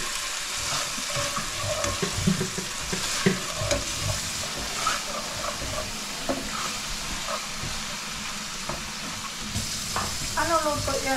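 Mussels sauté with garlic, onion and ginger in a pan, a steady sizzle with clattering stirring, while voices talk intermittently over the cooking.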